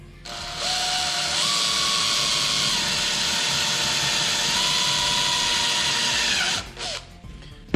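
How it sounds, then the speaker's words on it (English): A power drill bores a number 11 hole for a com mount in the center stack panel of a RANS S-21 aircraft, a loud close whine that holds steady for about six seconds, shifts pitch as it cuts and then stops. "You drill a number 11 hole."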